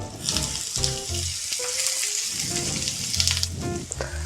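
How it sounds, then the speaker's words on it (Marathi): Chopped spring onion bulbs sautéing in oil, browning toward reddish, give a steady, loud, close sizzle and frying crackle that runs continuously, with brief stirring touches. "कांदा आपल्याला लालसर होईपर्यंत परतून घ्यायचा आहे"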